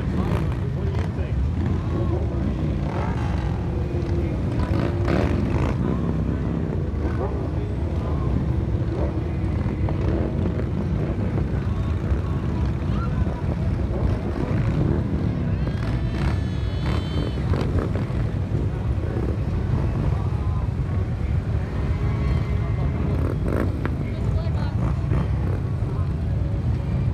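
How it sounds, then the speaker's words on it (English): Hundreds of Harley-Davidson motorcycles idle and rumble at an air show, a thick continuous engine drone mixed with wind buffeting on the microphone while someone talks over it. "We're told there would be somewhere between 300 and 500 Harleys out here this afternoon."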